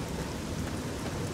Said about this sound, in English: God, what's up with all this rain?